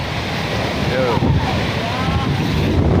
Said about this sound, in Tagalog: Kaso ang lalaki ng alon mga kaiboy